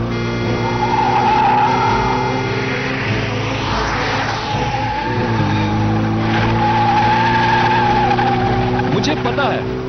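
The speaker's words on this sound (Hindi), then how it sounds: "गाड़ी आ रही है।" A car approaches and skids, the rising engine roar building toward a sharp tire squeal, set in a tense drama scene with a sustained musical drone underneath.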